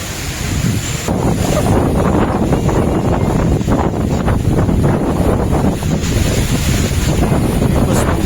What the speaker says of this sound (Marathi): खूप थंडगार हवा चालू आहे